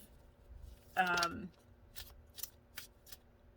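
A deck of tarot cards is riffled in one quick, crisp burst of flicking card noise, followed by a few softer taps and handling sounds, quiet and close.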